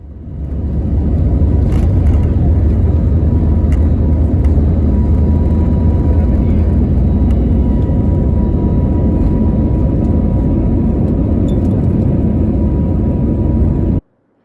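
A Vistara airliner roars down runway 11 on its takeoff roll, a loud, steady engine rumble that holds for about fourteen seconds before cutting off abruptly.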